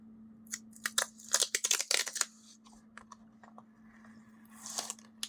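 Sticker peeled up from a page while setting up a Cocoa Daisy standard notebook: a quick run of close crackly tearing and scraping bursts, followed by a softer peel near the end, over a steady low hum.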